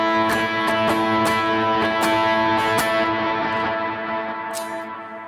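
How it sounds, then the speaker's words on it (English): Electric guitar notes and chords ringing out with heavy delay repeats and reverb tails from wet pedals, sustained and fairly loud, fading slightly toward the end. "it did not kill my delayed trails or the reverb tails"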